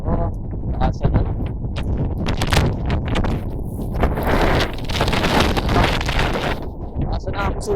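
Strong, gusty wind on a mountain near Dupax buffets the microphone in loud, continuous rumbling blasts that dominate the scene.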